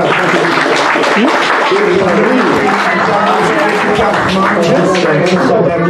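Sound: wedding guests applauding newlyweds

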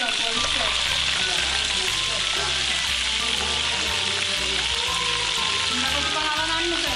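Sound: slipper lobsters deep frying in oil

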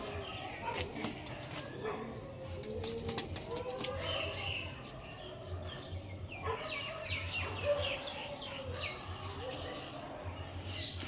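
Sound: Andhra pigeons cooing

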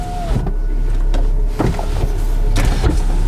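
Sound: BMW convertible electric windows closing

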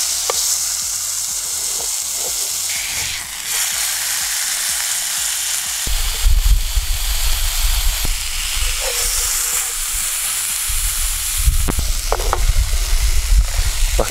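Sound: tuna searing in a frying pan

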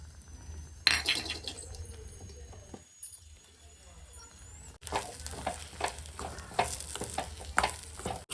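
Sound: cashews and raisins frying in ghee

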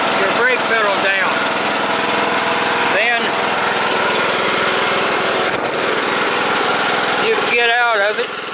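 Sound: Troy-Bilt Pony riding lawn mower engine running

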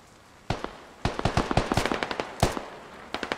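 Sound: gunfire in the video game Squad

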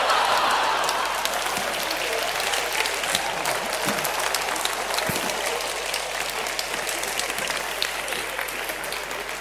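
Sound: audience applause

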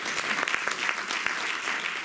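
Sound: audience applause at lecture

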